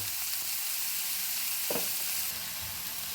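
Onions frying in a pan after a pinch of salt goes in, a steady close sizzle with a brief scrape of stirring midway, no voices.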